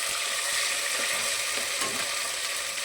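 Ginger-coriander paste roasting in hot oil, cooking for a country-style chicken dish, gives a steady, dense sizzle and crackle throughout, fairly loud and close, with faint stirring scrapes underneath and no talking.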